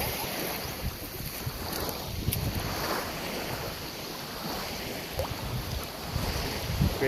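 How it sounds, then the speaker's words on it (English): Steady rush of surf and wind buffeting the microphone on a beach on Carnaza Island, a continuous broadband roar with occasional swells, no voices. "Great beach."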